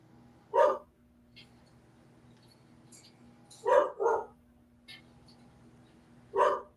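A dog barks four times in short, separate bursts at moderate distance, with quiet pauses between them and a faint steady hum underneath.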